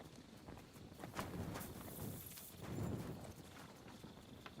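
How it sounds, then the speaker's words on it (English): Horse hooves clip-clop at a steady walking pace in the medieval role-playing game Kingdom Come: Deliverance 2, soft and muffled against a faint background, with no talking. "My, what a beautiful horse."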